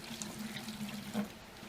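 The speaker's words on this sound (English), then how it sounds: "Just want to put a little water in and then add your setting compound powder." Water pouring into a mixing bucket before setting-type drywall joint compound powder is added for a ceiling tape repair; a steady, moderately close trickle and splash running unbroken and alone.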